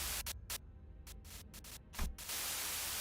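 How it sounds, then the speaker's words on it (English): Radio static from the video game Limbus Company, a harsh hiss of white noise that cuts in and out in choppy bursts, then settles into a steady loud buzz. "a sudden buzz of white noise breaks through the truck's signal."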